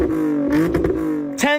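A V6 car fitted with an Axleback exhaust and high-flow resonators revs loudly and close, with a steady engine drone that builds and then rises sharply in a quick rev at the end.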